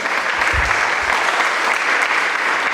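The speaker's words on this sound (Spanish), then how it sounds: "Un aplauso, por favor." A congregation at a Sunday church service gives loud, sustained applause, a dense uniform clatter of many hands close by, alone without talk.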